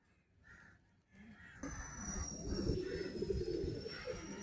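A full breeder pigeon gives soft, low cooing calls at close range, faint at first and then a rising murmur with a steady background hiss.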